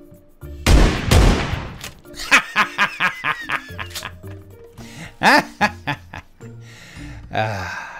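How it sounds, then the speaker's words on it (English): PlayerUnknown's Battlegrounds gunfire crackles in several sharp bursts, a dense volley followed by a rapid string of evenly spaced shots, with laughter and voices mixed in between. "Somebody was shooting at him."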